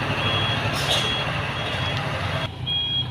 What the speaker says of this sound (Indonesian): ini akan dibantu nih sama dam truk nih